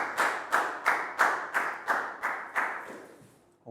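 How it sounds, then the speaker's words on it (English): Classmates clap in unison for a student in a Year 3 English lesson, about eight sharp, evenly spaced group claps roughly half a second apart, close and loud, fading slightly toward the end with no talking. "big round of applause for Pak Bung"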